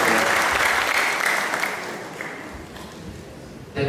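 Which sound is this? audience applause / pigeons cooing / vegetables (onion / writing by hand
audience applause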